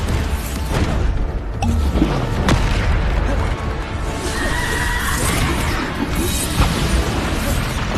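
Bombarda explosion spells in Hogwarts Legacy: heavy, booming blasts and crashing debris roll on continuously under dense game action, loud and close throughout.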